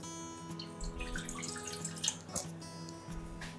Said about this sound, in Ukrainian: Беремо чашу від хлібопічки, додаємо 270 мл води.